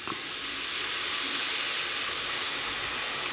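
Squeezed tamarind extract poured into a hot sambar pan gives a loud, continuous hiss like escaping steam, steady throughout the brief moment, with no one speaking.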